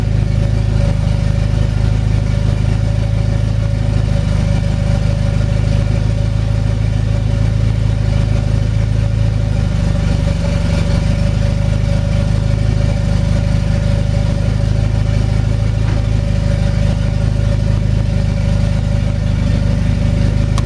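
A Mitsubishi Mirage coupe converted with an Evo IV all-wheel-drive system runs in first gear, its engine droning steadily and loud at close range for the whole stretch, with a slight dip midway and no talking.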